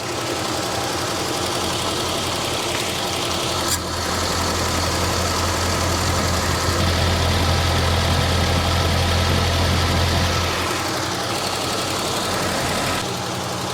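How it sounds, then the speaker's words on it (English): A Barracuda's engine idles steadily, a loud continuous low rumble with a faint rapid ticking of lifter noise running through it, close and uninterrupted with no talking. "It's also got a little bit of lifter noise"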